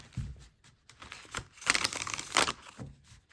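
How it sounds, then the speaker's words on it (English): A close, crackling flutter of first-edition My Friend Fire oracle cards, a deck thinner than a tarot deck, riffling together, building to a dense burst, then settling with soft taps. "Here is a riffle shuffle with the first edition My Friend Fire."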